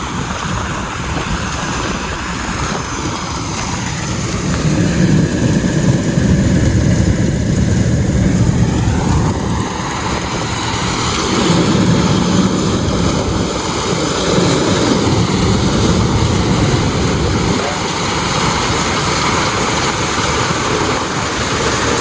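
Tractor engine running in a wet field, a loud continuous rumble mixed with heavy wind buffeting on the microphone, swelling and easing in long surges with no talk heard.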